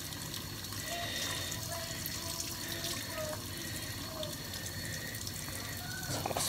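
Tap water runs steadily over a makeup brush being rinsed clean, a continuous close splashing hiss at a moderate level with small drips and trickles throughout.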